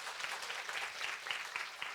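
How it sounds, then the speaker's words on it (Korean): Audience applause at a Korean university major information session, a steady patter of clapping that stays fairly even throughout the short stretch without any voices. "박수 쳐주시면 감사하겠습니다"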